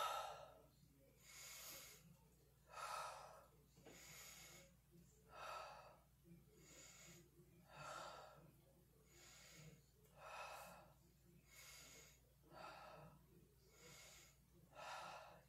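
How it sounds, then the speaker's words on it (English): Slow, breathy exhalations during a yoga session with weights, about a dozen soft airy gusts coming at a steady rhythm, quiet and close, with little or no speech. "And exhale."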